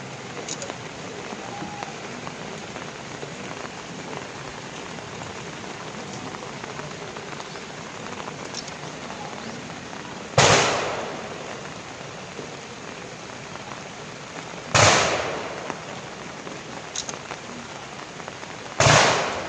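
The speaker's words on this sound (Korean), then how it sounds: "조총은 3회 발사됩니다" An honor guard fires a three-volley rifle salute at a Korean memorial ceremony: three sharp, loud cracks spaced several seconds apart, each with a short decaying echo, over a steady hiss of outdoor background noise.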